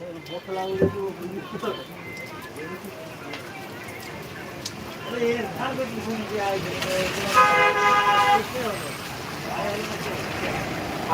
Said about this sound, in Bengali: দেখো আমাদের রাস্তার মাধ্যমে কত গাড়ি চলাচল করছে